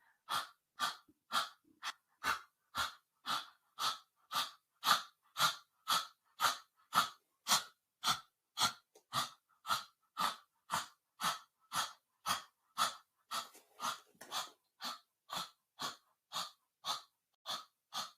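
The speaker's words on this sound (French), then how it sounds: "Exagérez votre respiration." Exaggerated yoga breathing pulses in a fast, even rhythm of sharp, forceful breaths, about two per second, close and clear with no talking over it.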